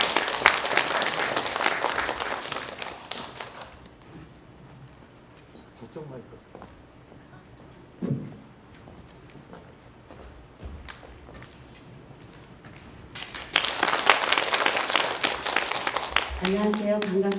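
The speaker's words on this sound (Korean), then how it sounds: "큰 박수로 맞아주세요." Audience applause at a poetry recitation event in Chuncheon, a broad burst of clapping at the start that fades, quiet murmurs, then another loud round of clapping near the end with a voice beginning to speak.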